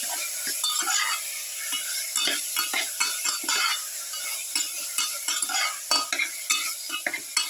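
Pepper garlic beef stew being stirred in a pot, a steady run of scraping and clinking spoon strokes over a soft sizzle, close and fairly loud with no voices.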